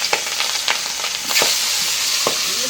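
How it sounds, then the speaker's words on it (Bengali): Pangasius fish sizzling and crackling in hot oil in a pan, a steady loud frying hiss with scattered pops and spatters throughout. "এটা গরম হয়ে গেছে, মাছ দিয়ে দিই।"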